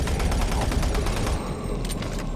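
Rapid, steady bursts from a chain gun in Doom 3, a fast mechanical stream of shots that runs loud and continuous before easing off into a few last rounds.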